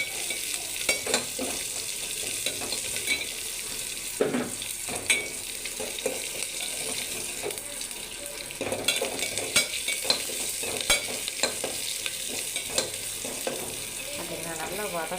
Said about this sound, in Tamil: நல்லா வெங்காயம் நல்லா வதங்கி வரணும்